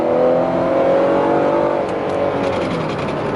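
A 2010 Chrysler Town & Country minivan accelerates hard with traction control cutting in, a loud, close rising engine roar with whining harmonics that holds for a few seconds and eases slightly near the end.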